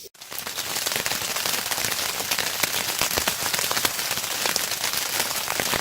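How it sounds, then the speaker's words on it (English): Rain pattering steadily on a surface overhead, dense irregular drops close by, with no voices. "Oh yeah, it's raining."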